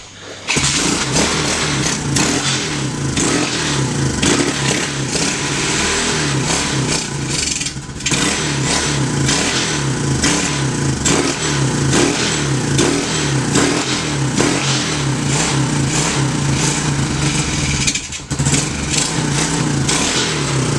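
A TAO pit bike engine cranks over loudly and continuously, its high-compression strain giving a rough, chugging pulse that keeps going for about twenty seconds without catching.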